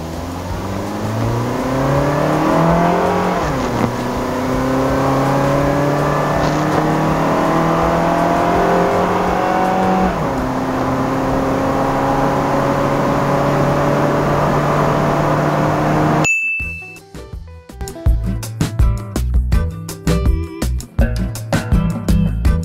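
A Honda Jazz GE8, recently tuned up with fresh oil and a racing air filter, accelerates hard from a standstill toward 100 km/h, its engine rising in pitch through several gear shifts, loud and close, then cutting off abruptly.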